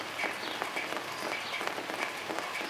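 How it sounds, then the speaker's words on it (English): Light rain beginning to fall outdoors, a soft steady patter of scattered drops hitting a surface, faint and continuous with no voices. "It's starting to rain."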